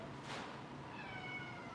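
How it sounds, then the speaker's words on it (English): A cat named Luna gives one short meow near the start, then a fainter drawn-out vocal tone follows in a quiet indoor room. "Luna, why are you meowing?"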